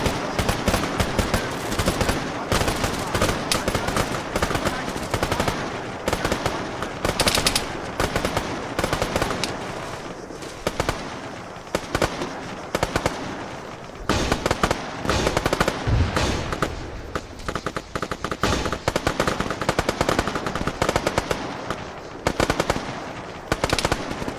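Video game gunfire from Arma rattles in a dense, continuous stream of machine-gun bursts and single shots, loud and unbroken throughout with no speech.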